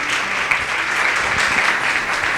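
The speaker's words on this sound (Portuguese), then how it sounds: "Louve a Deus com as suas palmas," Church congregation clapping hard together, a loud, continuous patter of many hands with a few sharper individual claps standing out, and no speech over it.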